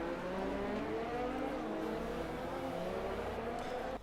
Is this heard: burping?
no